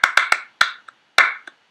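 Crisp flamenco palmas from a song, about seven sharp hand claps in a syncopated pattern, close and loud with brief ringing decays and short silences between them.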